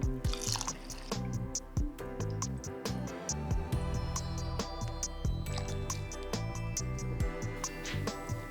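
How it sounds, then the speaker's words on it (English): Almond milk is poured into a container for overnight oats, with soft liquid trickles, drips and small knocks close by, fairly faint throughout. "Next, we need 2 1/4 cups almond milk."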